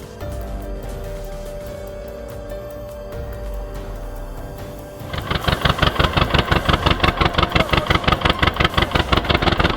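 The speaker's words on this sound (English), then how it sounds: "Engine still running" A tractor that is stuck during a water crossing keeps its engine running. A low, steady drone turns halfway through into loud, rhythmic engine chugging that pulses evenly to the end.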